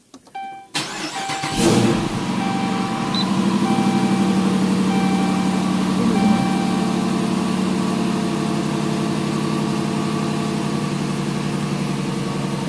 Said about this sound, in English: let's fire it on up here, and we'll just take it through the gears